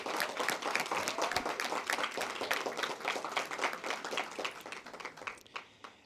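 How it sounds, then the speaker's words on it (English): Audience applause at a school board meeting, dense sustained clapping that fades out over the last second, heard alone without speech. "So let's give them a round of applause."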